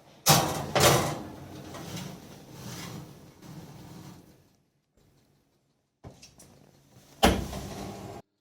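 A tray of choux buns slides into an oven preheated to 200 degrees. Clattering bumps and a door thud sound close and loud, followed by a brief quiet stretch and another sharp knock as the door shuts.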